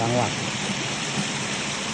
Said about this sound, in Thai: มีน้ำตกไหลแบบนี้นะ